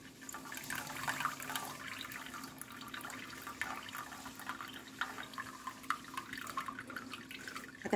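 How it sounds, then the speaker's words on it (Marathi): Water being gently poured off the top of settled batter made from ration rice: a steady, faint trickling and splashing that runs continuously, with no talking. "त्याच्यावरचं अलगद पाणी काढून घ्यायचं आहे"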